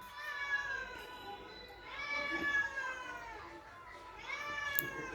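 A cat meows three times, long drawn-out cries spaced a couple of seconds apart, fairly close.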